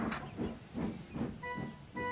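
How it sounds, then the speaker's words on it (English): A steam engine pulling a goods train of trucks into a harbour puffs in a steady rhythm of about five soft chuffs, each with a breathy hiss. A thin tonal whine rises near the end. "James puffed into the harbour with his goods train of trucks."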